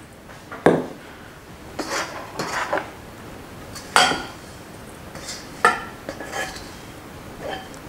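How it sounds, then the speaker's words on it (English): A metal spoon scrapes and clinks against a pan and bowl while coconut filling is transferred, a series of sharp, irregular knocks and scrapes spaced across several seconds. "So I'll transfer it back into the bowl."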